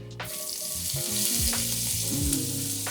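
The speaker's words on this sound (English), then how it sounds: "Just a bit more fat, and then throw the onions in." Onions frying in fat sizzle loudly and evenly up close, while tonal music plays underneath the hiss for the whole few seconds.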